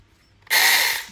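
A small cordless mini electric chainsaw starts up after half a second of near silence, then whines loudly and steadily close by for under a second before easing off slightly, with no voices.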